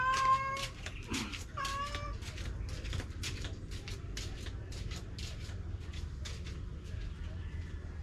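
A house cat meows in a home, several short calls in the first two seconds, then fainter calls later, over steady background rumble and scattered clicks and shuffling sounds.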